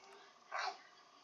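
A single short dog bark sounds once, faint and somewhat distant, over quiet background hum.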